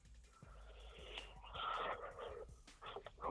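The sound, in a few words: breathing of a caller on the phone line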